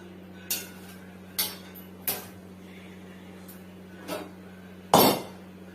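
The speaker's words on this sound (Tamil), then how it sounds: "தேவையான சாத்தை போட்டு கலக்கணும்" A spoon clinks against a vessel while cooked rice is mixed for variety rice dishes, five separate sharp taps spread over several seconds over a steady low hum, fairly close.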